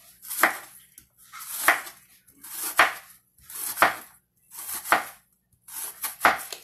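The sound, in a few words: chopping onion finely with a knife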